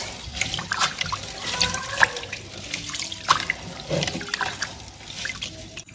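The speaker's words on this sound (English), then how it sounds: "Let's go ahead and wash our rice in a bowl." Rice being washed by hand in a bowl of water for Ghanaian coconut rice porridge: steady sloshing, swirling and trickling with small splashes and grains rubbing, close and continuous.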